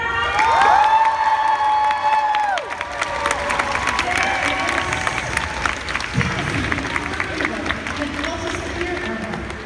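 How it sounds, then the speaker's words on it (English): A gaming convention panel crowd erupts in loud cheering, whistles and applause, with excited shouts and a sustained wall of clapping that stays strong throughout. "a huge round of applause for our next guest is David Hayter!"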